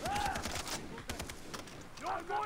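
A rocket launcher fires in Far Cry 3 co-op play, with a few sharp blasts and impacts amid game noise, while players talk over the action.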